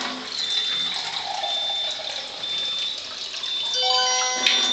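Water from a water ionizer pouring steadily into a container, a continuous close trickle and splash that holds an even flow and rises slightly in pitch near the end as the vessel fills.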